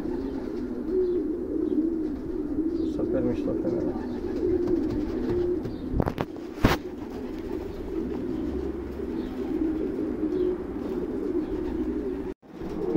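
Racing pigeons coo steadily and low in a loft, a continuous soft burbling chorus close by, with a couple of sharp knocks midway and a few words of talk.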